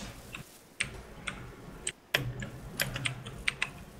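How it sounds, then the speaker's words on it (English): Mechanical computer keyboard keys clacking in scattered, uneven bursts of sharp taps, close and moderately loud, with a faint room hum behind and no talking. "Oh, that's my keyboard. It's mechanical keyboard."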